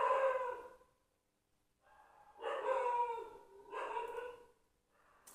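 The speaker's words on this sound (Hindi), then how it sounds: "अब ये ज़्यादा भौंक रहा है" A dog barks and howls in drawn-out bursts, three or four strained calls separated by brief pauses, fairly close.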